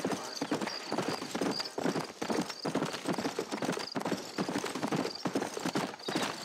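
A horse in the video game Red Dead Redemption clip-clops along at a steady, brisk rhythm, its hoofbeats loud and close throughout with no talking over them.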